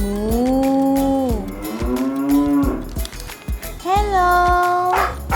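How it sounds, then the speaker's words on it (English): A cow moos several times in a row, loud and near, with long drawn-out lowing calls and brief pauses between them. "This is a cow."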